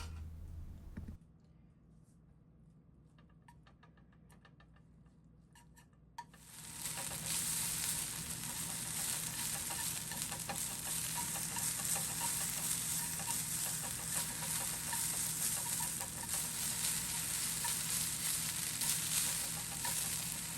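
Food frying in a crockpot pan breaks into a loud, steady sizzle and crackle after a few quiet seconds, then keeps going without a break.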